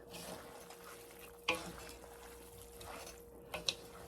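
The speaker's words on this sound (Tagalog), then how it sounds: "And then mix it." Pansit noodles being tossed with cabbage, carrots, bell peppers, snow peas, fish balls, liyempo and shrimp, soft steady stirring and sizzling with a couple of sharp utensil clicks against the pan.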